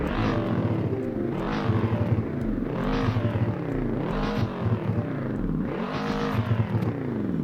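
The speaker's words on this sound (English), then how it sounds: "Hear the revs?" A Lamborghini Urus SUV engine revs loudly and close, climbing and falling in about five repeated surges with a growling exhaust note and no talking.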